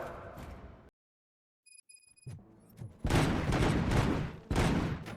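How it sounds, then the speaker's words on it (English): Heavy sustained gunfire from Robocop: Rogue City, a near, loud burst of rapid shots roaring for about two seconds, breaking briefly, then resuming, after a quiet stretch with faint electronic beeps. "Gunshots? What's going on?"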